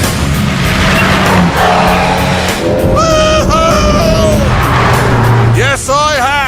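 A KTM X-Bow sports car drives by with a loud engine drone and a brief tire squeal near the end, while people talk over it.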